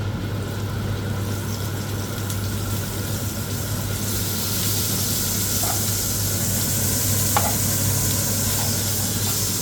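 Butter melting and sizzling in hot oil for a tarka daal tempering, a loud, even, close hiss that holds steady with faint scrapes and small pops.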